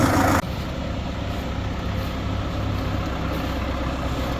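An MTZ tractor engine warms up in -20 degree frost, a steady, loud, low diesel rumble that runs on alone after a brief louder burst at the start.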